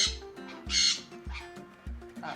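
Loud, piercing sun conure squawks burst out in several harsh calls, close by and shrill, with short gaps between them.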